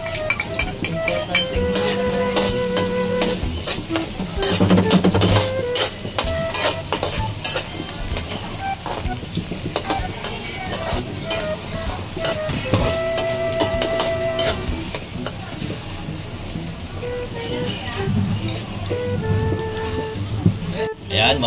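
Chopped garlic and ginger frying in oil in a pan, a steady crackling sizzle broken by scraping stirs and clinks of a spatula, continuous and close, with a voice talking over it now and then.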